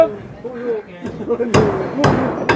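A hammer pounds something into place with three loud, sharp strikes at a steady pace, close by, while people talk in between.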